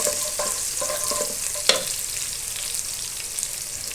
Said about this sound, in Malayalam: അപ്പോൾ നമ്മൾ ഒന്ന് ഇളക്കി കൊടുക്കുന്നത് നല്ലോണം. ഒന്ന് ആയി വരട്ടെ, പച്ചമുളകും ഉള്ളിയും എല്ലാം.